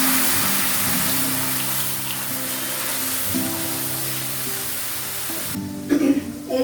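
Lentils hit a hot pan with green chillies, giving a steady loud sizzle and crackle that fades slightly over the clip, followed by a brief clatter near the end.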